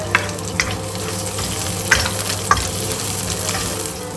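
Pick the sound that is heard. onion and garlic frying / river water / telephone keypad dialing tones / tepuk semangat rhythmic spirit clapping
onion and garlic frying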